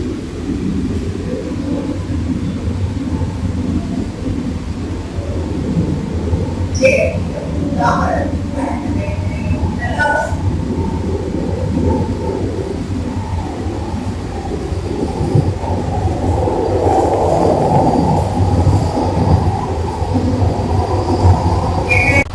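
Steady low rumble of a new AC suburban train running on rails in Chennai, continuous and fairly loud throughout, with faint higher squeals and rattles rising over it.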